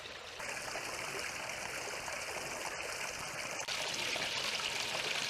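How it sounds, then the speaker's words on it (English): Preacher Falls tumbling down rocky shoals into pools, a steady rushing, trickling wash of water heard close and alone, with a faint high tone for part of it and no talk. "Preacher Falls tumbles down the shoals, coming into pools and forming other pools, flowing out of those pools"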